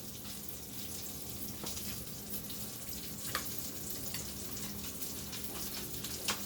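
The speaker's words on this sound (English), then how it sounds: "this is the same thing that's frying up in the pan right now" Steady sizzling and crackling of food frying in a pan, a continuous hiss with occasional sharper pops, fairly quiet and close.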